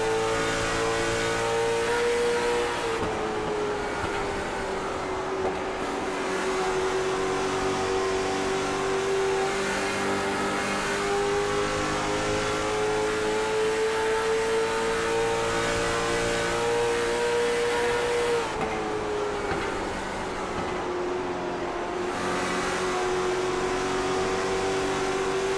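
Late model race cars lapping New Hampshire Speedway in iRacing, engines droning steadily loud and close with a sustained mid-pitched tone that shifts as they rev and ease off through the corners.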